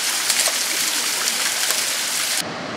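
The Krimml Waterfalls roar as water plunges down, a dense, loud, steady rushing wash with no voices, cutting off abruptly near the end.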